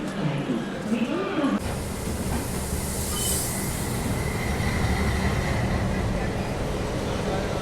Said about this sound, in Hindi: तो अपने निर्धारित समय 11:15 पे अपनी ट्रेन निकल चुकी है न्यू दिल्ली रेलवे स्टेशन से।